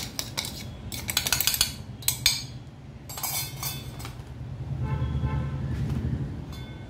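A metal sieve clinks and scrapes repeatedly as ground roasted dal and poha are sifted for chakli dough, with bright metallic taps in bursts followed by a steadier rustling shake near the end.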